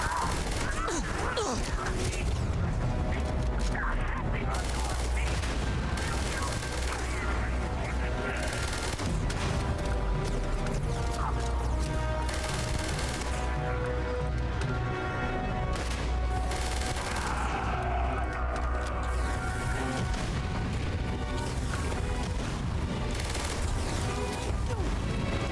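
Sustained gunfire rattles continuously in Starfield: Shattered Space, dense bursts of shots layered over a busy battle din, with a voice talking over it throughout.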